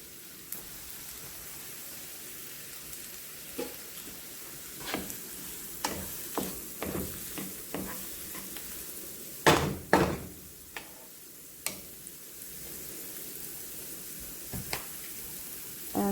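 Chopped onion dropped into hot fat in a pan for sweet and savory wild rice gives a soft sizzle, broken by sharp clattering stirs and utensil knocks at irregular intervals, all close by.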